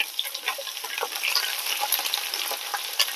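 Ingredients drop into a hot pan for Kerala milk tapioca and fry with a loud, crackling sizzle close up, broken by frequent stirring clicks and scrapes.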